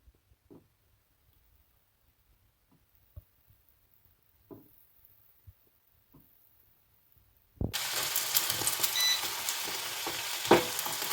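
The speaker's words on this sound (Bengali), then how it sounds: "এবার আমি তেলের মধ্যে ভাজবো।" Breadcrumb-coated cheesy potato balls drop into hot oil and begin deep frying, a loud, steady sizzle that bursts in after several seconds of quiet with a few soft knocks, then holds close and bright.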